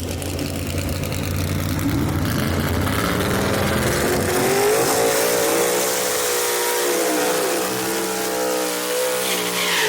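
A drag racing car at Kil-Kare Dragway revs hard and then roars steadily at a loud, close and sustained level, its engine pitch rising and falling as it accelerates.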